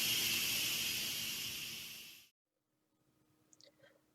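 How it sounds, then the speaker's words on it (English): Loud, steady steam hiss from an Instant Pot pressure cooker venting after high-pressure cooking, cutting off abruptly after about two seconds, followed by near silence with a few faint clicks. "Carefully allow the pressure to release all the way before opening the lid."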